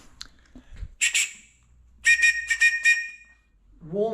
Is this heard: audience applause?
no